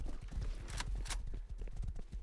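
Horse hooves clip-clop in an irregular walking rhythm, moderately close, with a couple of brief noisy bursts over a low background rumble.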